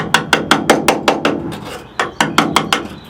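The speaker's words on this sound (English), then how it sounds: "And the magic hammer." Repeated hammer blows on rotted sheet metal of a Ford F100 pickup, about a dozen sharp, close strikes in two quick bursts with a brief pause between, ringing slightly metallic.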